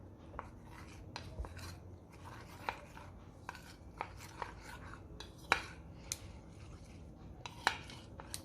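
A utensil stirs cornstarch with milk in a bowl for cheese muffins, giving faint, irregular clinks and scrapes against the bowl at a quiet, close level.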